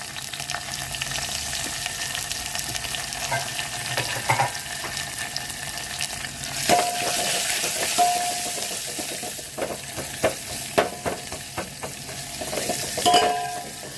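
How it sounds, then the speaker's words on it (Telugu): Onion, curry leaves, green chilies and a pinch of asafoetida hit hot oil in a pan for Telugu tomato rasam: a steady sizzle with stirring scrapes and clinks that grows louder and busier partway through. "ఉల్లిపాయ కరివేపాకు వేస్తాను మిరపకాయలు వేస్తున్నాను కొంచెం ఇంగువ వేస్తున్నాం"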